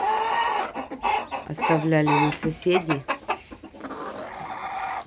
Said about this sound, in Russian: Куры очень хорошие, замечательные.